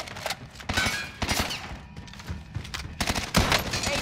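Rapid bursts of gunfire and heavy shots from the Call of Duty: Modern Warfare video game crackle in loud clusters, pausing briefly between volleys, with dense battlefield noise throughout.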